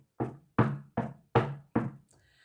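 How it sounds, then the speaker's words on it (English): Five evenly spaced knocks on a door at night, crisp and fairly close, each followed by a short decay, with nothing else heard. "Suddenly, Percy heard a tapping sound."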